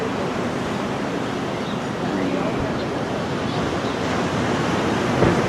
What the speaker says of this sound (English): as you breathe and listen to the ocean